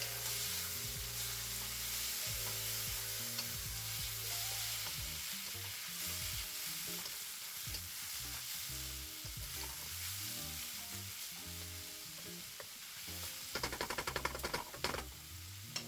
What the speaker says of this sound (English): Now some garlic. Saute this for about 2 minutes